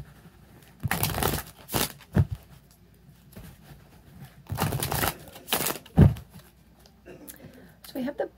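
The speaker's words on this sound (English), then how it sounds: "Do two more shuffles here." Tarot cards being shuffled by hand, giving two bursts of brisk riffling and flapping, each about a second long, with soft taps and a quiet hush between them.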